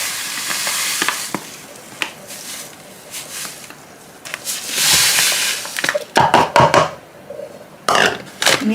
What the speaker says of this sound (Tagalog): Mix lang natin yung ating glutinous and sugar